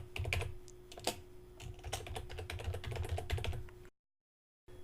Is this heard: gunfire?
no